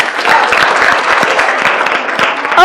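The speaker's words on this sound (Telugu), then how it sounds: "ఒకసారి గట్టిగా క్లాప్స్" An audience at a televised game show claps loudly and continuously, dense rapid applause filling the whole short stretch.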